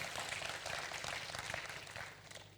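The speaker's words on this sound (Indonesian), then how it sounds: "Boleh kasih tepuk tangan yang keren banget gak buat Yesus Tuhan kita?" A congregation at a Pentecostal church youth service in Sidoarjo claps together in a steady, dense patter that fills the room, moderately distant and fairly soft.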